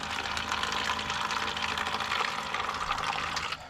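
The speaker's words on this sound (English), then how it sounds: "Get Bella a little bit of fresh water." Fresh water pours at a campground for Bella the dog, a continuous hissing, splashing stream that runs steadily and fairly close for a few seconds before tapering at the end.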